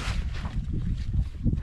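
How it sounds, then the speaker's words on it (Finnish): Gusty wind buffeting the microphone outdoors beside a boat on a lake, a low rumbling roar rising and falling, with no voices. "Ikävästi painaa tuo tuuli tänne"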